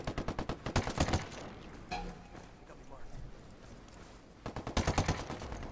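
Bursts of rapid gunfire in Ghost Recon Wildlands, with a loud rattling volley at the start, quieter scattered shots in the middle and another sharp volley near the end, while players talk over it.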